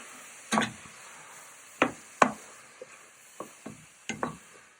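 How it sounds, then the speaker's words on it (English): Prawn and vegetable curry stirred in a pan: a run of scraping, clattering strokes of a utensil against the pan, a few close and loud, others lighter, with a soft sizzle underneath. "you want to give that a good stir with all your vegetables"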